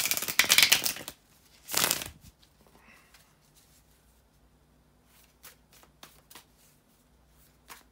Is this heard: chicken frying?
no